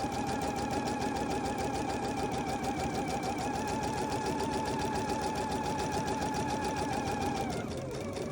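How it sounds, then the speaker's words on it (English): A sewing machine runs steadily as it stitches a straight seam about a quarter inch in across a Dollar Tree towel, a continuous fast mechanical whir that holds for about seven and a half seconds before slowing to a stop. "I'm just going to sew straight across at about 1/4 inch."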